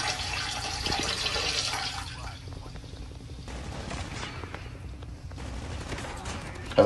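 Gunfire in Call of Duty, rapid bursts of shots rattling over a dense game soundscape, fairly quiet and continuous with a sharper hit at the end, players' voices faintly mixed in.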